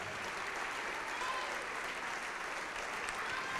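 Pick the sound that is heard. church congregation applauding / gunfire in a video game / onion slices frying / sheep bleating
church congregation applauding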